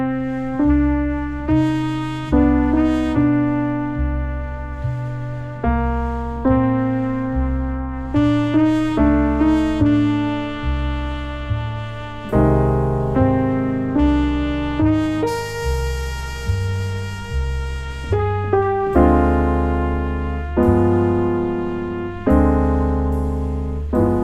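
Solo piano plays the verse of a jazz standard in a well-known arrangement, steady chords and a melody line with low bass notes, full and close for the whole passage.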